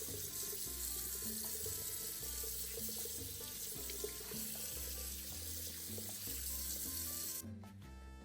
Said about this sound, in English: Next, I'm going to rinse the meat before I begin to cut it into smaller pieces